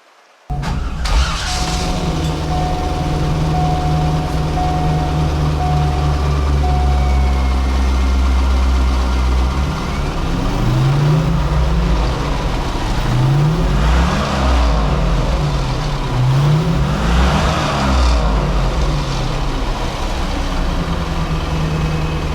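A 1998 Chevrolet Corvette engine starts up and idles with a steady low rumble, then revs up several times in rising and falling surges, loud and close.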